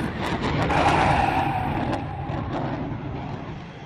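An F/A-18 Hornet jet lands on an aircraft carrier deck with a loud, continuous roar as its engine revs up at touchdown, the sound steady and alone.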